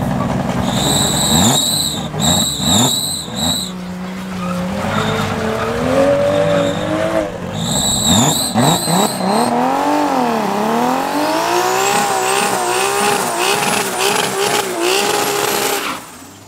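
A twin-turbo race car at a drag racing event at Midvaal Raceway, engine revving and rising in pitch with whining turbo tones and tire squeal, loud and close, repeating in bursts.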